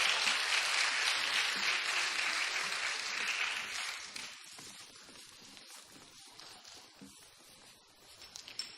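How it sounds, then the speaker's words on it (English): Audience applause for pageant contestants, dense clapping for about four seconds that thins out and fades to scattered claps and quiet. "Let's give a round of applause for our first group of contestants."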